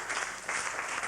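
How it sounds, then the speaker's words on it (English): A studio audience claps for Ian on a comedy variety stage show, a dense burst of applause, loud and close, with no voices. "Let's have a big round of applause for Ian anyway."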